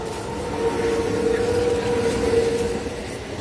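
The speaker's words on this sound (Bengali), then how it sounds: "এই যে ট্রেনটাতে এসেছিলাম" A train at a railway station produces a steady rumbling drone with a sustained tonal hum, moderately loud and continuous throughout, with no clear speech.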